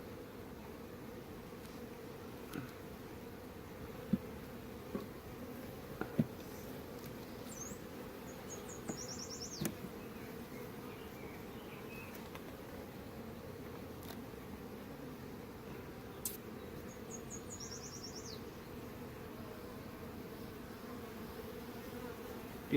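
Honeybees in an open hive colony give off a steady, low, even drone that continues throughout, with a few faint birdlike chirps high above it.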